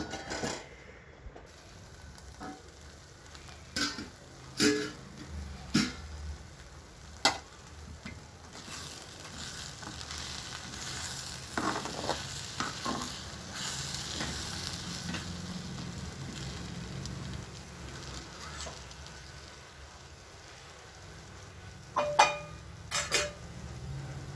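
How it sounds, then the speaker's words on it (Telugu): Korrala (foxtail millet) upma cooking in a pan on a medium flame, giving a soft continuous sizzle broken by several sharp metallic clinks of a spoon or lid against the pan. "ఇప్పుడు దీన్ని మీడియం ఫ్లేమ్లో పెట్టి ఒక 10 minutes కుక్ చేసుకుందామండి"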